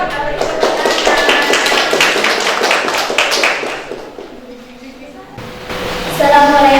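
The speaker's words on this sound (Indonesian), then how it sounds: "Kita beri tepuk tangan." A group of employees claps together at a workplace gathering, a dense burst of applause that thins out after a few seconds before voices and a low hum take over.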